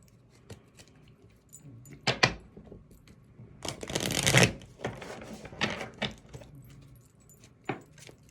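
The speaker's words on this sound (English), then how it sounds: "let me get some clarifying cards with the Love Oracle here" Love Oracle cards shuffled by hand, scattered soft slaps and riffles with a louder burst of shuffling in the middle, close and quiet, with no voices.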